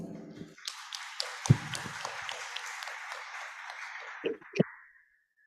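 Conference audience applause builds into a broad wash of clapping, with a few louder claps standing out near the end before it fades away.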